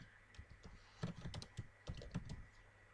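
Clicking keystrokes on a computer keyboard while entering text, a quiet, irregular patter of taps that picks up into quicker bursts partway through, close by with no voices.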